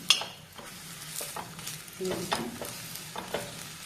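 Chhilka paratha roasting on a pan over a low gas flame, flipped and pressed with a ladle: soft steady sizzle with scattered scraping clicks and taps, close and fairly quiet, no talking.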